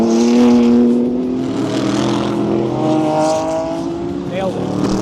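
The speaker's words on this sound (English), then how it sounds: "apologies for the noise from the generators and race car engines and everything else" Race car engines droning and revving at a racetrack with generators running nearby, a loud continuous mechanical roar with shifting pitch throughout, no speech over it.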